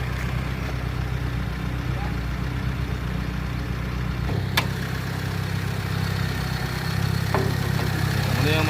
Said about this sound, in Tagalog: Muna yung makina mga guys.